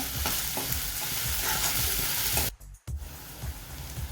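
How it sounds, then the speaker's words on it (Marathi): Ginger garlic paste with chopped onion sizzles and fries in a pan for chicken liver fry, a steady close crackle with stirring scrapes, broken by a short quiet gap before the frying resumes. "एक चमचा आळा लसूण पेस्ट हे छान परतवून घेऊया"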